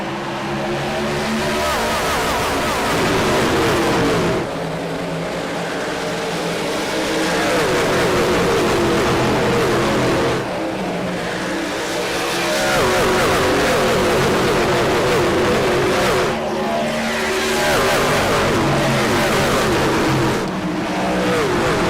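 Pack of racing trucks roars away at the green-flag start at Darlington, engines loud and sustained with rising revs and repeated surges as trucks pass close, continuous for about twenty seconds.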